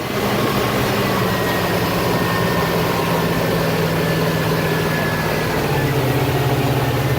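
A steady, loud low engine drone with a deep rumble from a 2010 Monterey 318 Sport Cuddy motorboat coming off plane, holding constant with a slight shift in pitch near the end.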